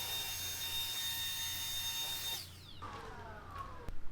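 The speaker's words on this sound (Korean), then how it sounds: "이렇게 해서 송풍기로 한번 불어볼게요" An air blower blasts a steady, loud hiss of air to clear dust off car paint, then cuts off and winds down, followed by faint handling noises.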